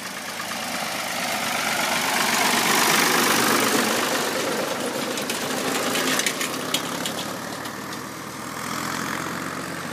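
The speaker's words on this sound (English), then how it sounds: "Pretty cool tractor, eh?" A tractor engine runs loudly nearby, a steady rumble that swells in the middle, with a few knocks and rattles near the end.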